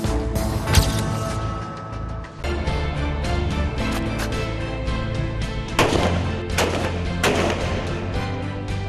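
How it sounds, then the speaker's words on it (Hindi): Gunshots crack out during army firing training, sharp loud reports at irregular intervals over a steady rumbling background, with several heavier bursts close together. "धोनी ने गोलियां भी दाग ली"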